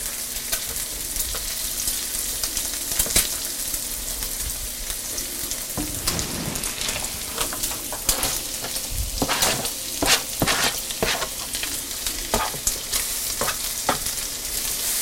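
Leeks sizzling steadily in a hot pan over lowered heat, with repeated scraping and clattering stirs breaking through the continuous frying crackle; close and fairly loud, no voices.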